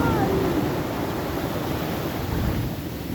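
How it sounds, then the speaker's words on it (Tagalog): Strong ocean waves surge at San Juan, La Union, a loud, constant roar of churning surf and spray close by, with a faint voice briefly heard under the noise. "Ayan, lakas ng alon"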